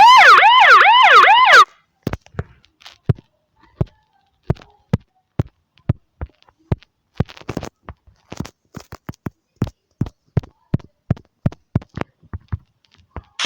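A brief wailing video game police car siren in Minecraft sweeps up and down for under two seconds, then gives way to a long series of sharp, evenly spaced clicks and taps.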